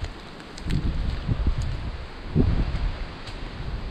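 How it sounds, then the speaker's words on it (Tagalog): Steady strong wind noise with low rumbling gusts buffeting outdoors at a hand rice harvest, a rough rustling roar that swells and eases over a few seconds. "Malakas ang hangin sa taas."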